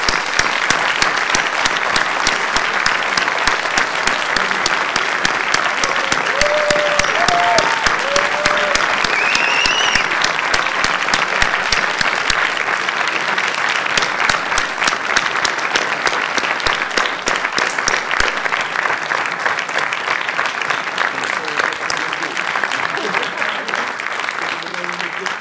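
A large audience at a botanical conference closing ceremony claps warmly and steadily for the whole stretch, dense applause with a few faint voices and whistles rising briefly.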